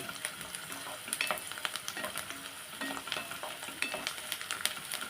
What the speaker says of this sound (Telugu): వేగే వరకు కలుపుతూ ఉండాలి ఈ ఉల్లిగడ్డ బ్రౌన్ కలర్లో రావాలి